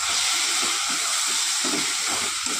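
Spice masala with Kashmiri chilli powder and green chillies sautéing in oil for a lote (Bombay duck) fish curry, giving a steady, even sizzling hiss with no voices.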